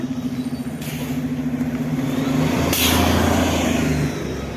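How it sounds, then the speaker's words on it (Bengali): A city bus pulling away from a roadside stop in Edmonton, its engine droning and rising steadily as it accelerates past, fairly close, then easing off as it moves away. "বাস চলে যাচ্ছে"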